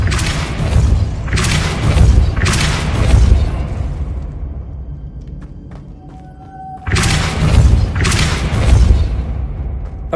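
Deep booming blasts from a spell cast in Hogwarts Legacy on PS5, loud, heavy, rumbling surges that swell and fade, with a quieter stretch of small clicks and a faint tone before another powerful burst.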